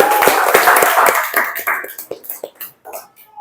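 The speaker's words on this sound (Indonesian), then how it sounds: "tepuk tangan untuk semuanya." A classroom of students claps for classmates who came to the front, a brief burst of hand claps that thins into scattered, separate claps and fades out within a few seconds.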